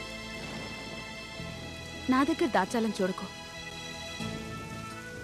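Rain falling on a house, a steady soft patter that continues beneath a short spoken line.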